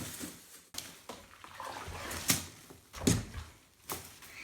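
A vintage Oberheim OB-X synthesizer part is scrubbed in warm water, giving soft wet swishes and splashes with a few sharper sloshing bursts, fairly close and moderately quiet, with no talking.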